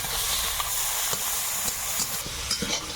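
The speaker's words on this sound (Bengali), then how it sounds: "এটা একটু হালকা ভেজে নেব" Steady hissing sizzle of raw prawns frying in hot oil with nigella seeds and garlic, close and continuous, with a few faint pops and stirring clinks.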